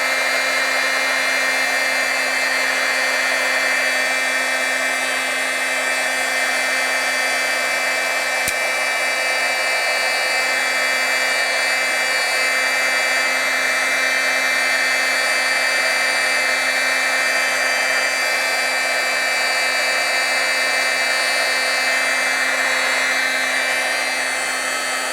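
A heat tool blows a steady, loud whooshing hum while heat-setting stamped ink on a card, running without pause for the whole stretch with no voices over it.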